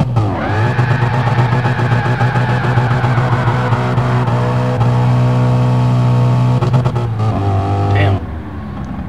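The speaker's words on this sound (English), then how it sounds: "Launch in second gear, let's see." A 650-horsepower Mustang GT in Gran Turismo Sport launches at full throttle in second gear, its engine roaring loudly and climbing steadily in pitch for several seconds before easing off, with tire noise underneath.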